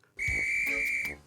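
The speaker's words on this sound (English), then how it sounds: "Ah, that's my guard's whistle." A railway guard's whistle gives one sharp, sustained shrill blast of about a second, close and loud.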